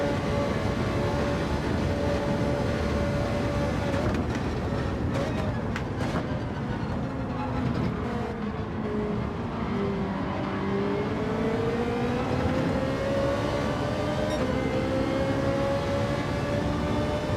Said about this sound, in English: This car sounds amazing.